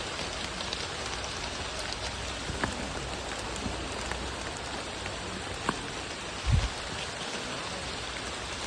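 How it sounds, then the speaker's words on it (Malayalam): Heavy rain falling outdoors at a scenic viewpoint, a dense, steady hiss of drops on surfaces with a few sharper close splashes and one low thump, no voices. "ഓക്കെ, നല്ല മഴയുണ്ട്"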